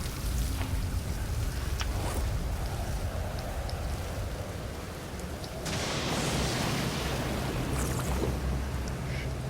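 Rain falls steadily in the survival video game Stranded Deep, a dense continuous hiss of drops close by that thickens midway, with no talking.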